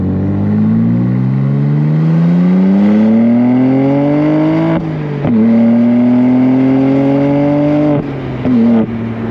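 A stock BMW M2 engine and exhaust rev loudly nearby, the tone climbing steadily, dipping briefly, then holding a high droning pitch, with no talking.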